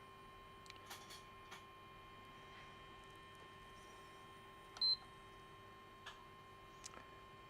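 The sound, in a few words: PS5 Slim console beeping during repair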